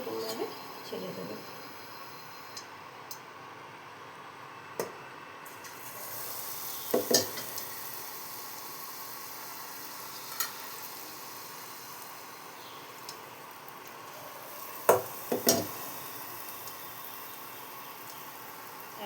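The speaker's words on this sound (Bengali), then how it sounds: "এইভাবে আমি ফুলকপিগুলো নিয়ে নিয়ে ভেজে নিচ্ছি।" Cauliflower pieces in gram flour batter frying in hot oil, a steady faint sizzle with occasional sharp clinks and splashes as pieces are dropped in one by one.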